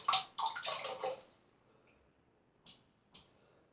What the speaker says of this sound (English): So I'll wet my brush.